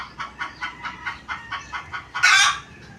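Chickens clucking steadily after being fed, a rhythmic series of close, repeated clucks ending in a louder, harsher squawk, with no talking.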